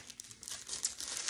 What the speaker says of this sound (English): I guess this is just tissue paper.